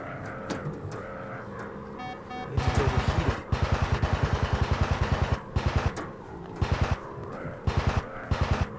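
Twin aircraft cannons in a Pacific air-combat video game, firing in rapid rattling bursts over a steady engine drone, the volleys repeating in short clusters with brief gaps.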